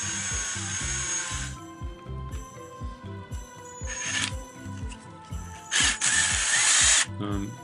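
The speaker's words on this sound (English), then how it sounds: "Then we're gonna use that half, drill a hole in it, big enough for the power adapter hole." A power drill bores a hole big enough for a power adapter in half of an enclosure. The motor whines loudly in bursts while a low, rhythmic rattling runs underneath, up close.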